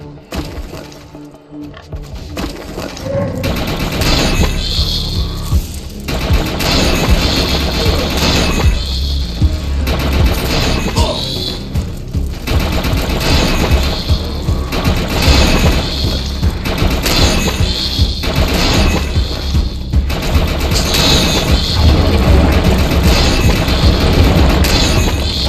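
Loud, dense gunfire and explosions from the video game Defiance rattle on continuously, with crashing, shattering impacts and booming thuds layered over each other and no talking.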